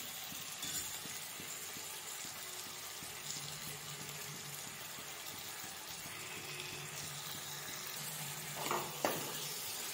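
A tempering for palak and mixed dal sizzling in hot oil, a steady close hiss and crackle throughout, with a brief clatter near the end and no talking.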